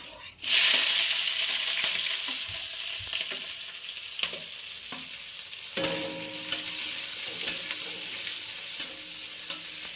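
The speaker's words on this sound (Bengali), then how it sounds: "এটাকে একটু নাড়াচাড়া করব, করে আমি আবার পেঁয়াজ আর কাঁচা লঙ্কাটা ছেড়ে দেবো।" Egg, onion and green chili frying in a pan with oil and dried red chili, a steady close sizzle broken by scraping stirs and occasional clinks of the utensil against the pan.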